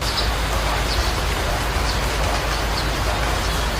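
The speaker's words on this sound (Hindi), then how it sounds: "तभी अचानक ठंडी हवा के साथ बारिश भी होने लगी।" Steady, dense rain noise with a constant hiss, loud and unbroken throughout, a downpour arriving with cold wind.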